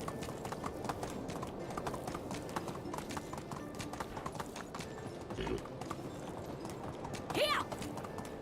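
Horse hooves clip-clop steadily on the ground in the medieval village game Medieval Dynasty, close and continuous, with a short whinny near the end and faint game ambience underneath.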